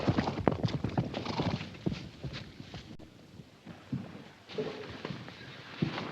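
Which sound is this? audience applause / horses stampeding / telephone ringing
horses stampeding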